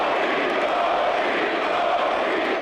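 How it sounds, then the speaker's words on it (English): A Lakers home arena crowd roars in a steady, dense wall of cheering and chanting for Kobe and Gigi, loud and sustained throughout with no break. "Laker Nation cheering for Gigi"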